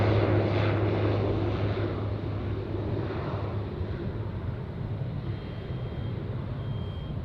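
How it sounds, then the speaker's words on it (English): A seaplane at Ted Stevens Anchorage airport runs its engine in a steady, fairly loud droning hum that slowly eases a little, with a faint high whine and no talk. "Nice seaplane."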